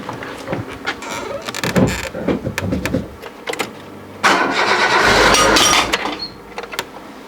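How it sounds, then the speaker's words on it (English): A Citroën BX is cranked and started for the first time after a cam belt change, with clicks and rattling followed by a sustained close, loud engine run. "It's always a little bit exciting to start up a car for the first time after cam belt change."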